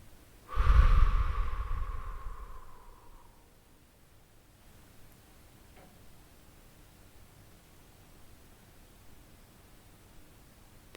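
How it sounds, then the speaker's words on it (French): A single slow, deep exhalation during a relaxation exercise, a loud close breathy rush that fades gradually over about three seconds, followed by near silence. "Et soufflez."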